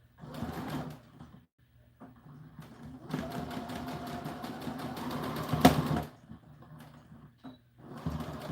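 Sewing machine stitching a small American Girl doll dress, running in bursts with short pauses between them, a long steady run in the middle, close and moderately loud.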